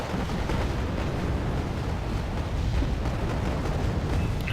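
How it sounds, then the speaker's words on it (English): Mortar fire in the video game Wargame AirLand Battle, a dense continuous rumble of distant explosions and booms layered into a constant roar with no clear individual impacts. "And here comes more mortars."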